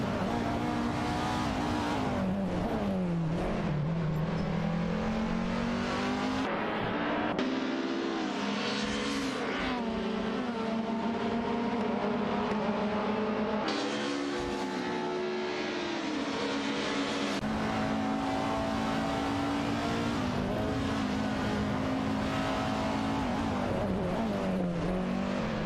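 Race cars in a video game, engines revving and shifting gears continuously over about 26 seconds, with rising and falling tones as cars accelerate, loud and steady.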